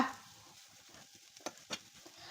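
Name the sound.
stirring chicken into masala in a pan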